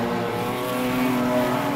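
Ford and Holden race car engines drone loudly as the cars pass at Archerfield, a sustained high whine that swells slightly, with no voices.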